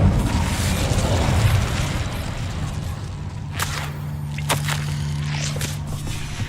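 A fire spell cast in Hogwarts Legacy bursts out in a few sharp whooshing cracks over a dense, roaring rumble of game ambience, loud and close.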